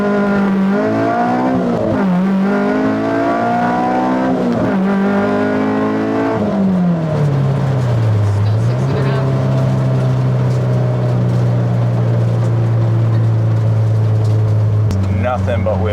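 A K-swapped Honda S2000 revving hard through the gears as its tyres spin with no traction, a loud, close, rising engine howl that drops between shifts and then holds a steady high drone, with a voice over it.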